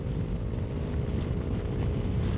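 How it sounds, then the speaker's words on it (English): Strong wind blows outdoors in mild, wet weather, a steady, loud, blustery rumble buffeting the microphone throughout with no voices. "It's bloody windy. It's not cold, it's just windy."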